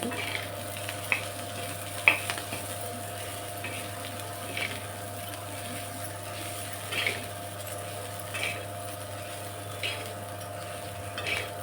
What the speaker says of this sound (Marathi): हरभरे टाकू लाल मिरची हलवून घेते